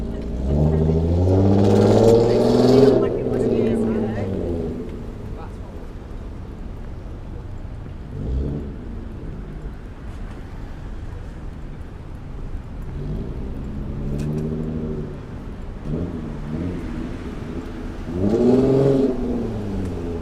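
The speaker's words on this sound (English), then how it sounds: "Oh, look at all the traffic here on the Brooklyn Bridge." Passing cars on the Brooklyn Bridge in New York City, engines rising and falling as vehicles sweep by, loud at the start and end with quieter traffic rumble between.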